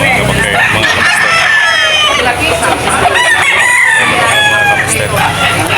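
Several gamefowl roosters crow and chickens cluck close by at a rooster sale, a busy, noisy setting with overlapping calls and a person talking among them.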